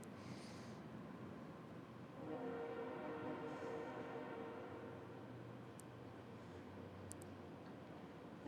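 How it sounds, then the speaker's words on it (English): A train passes at a distance outdoors during a quiet yoga session, a low steady rumble with faint tonal horn-like lines that swells midway and fades slowly, without any talk. "The train passed by."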